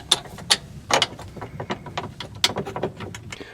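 Metal bolts being pushed through a UTV shifter bracket, a string of sharp, irregular clicks and clinks close by with quiet handling rustle between them.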